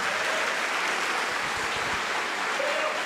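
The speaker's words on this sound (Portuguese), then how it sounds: "Vamos dar uma salva de palmas para o nosso Pai que está nos céus." A church congregation claps together in sustained, dense applause that fills the space evenly for the whole stretch, with no voices standing out.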